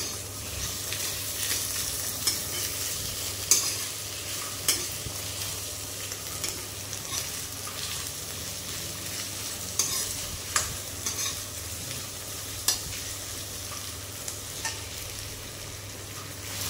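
Potatoes frying in a pan for chicken gravy, a soft continuous sizzle under a low steady hum, broken by occasional sharp clinks and scrapes of stirring.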